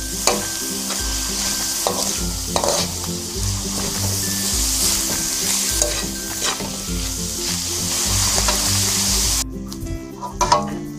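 Beef and soy sauce for lumpia are stirred in a hot frying pan: loud, continuous sizzling with repeated scraping strokes of the spatula, close up and with no voices.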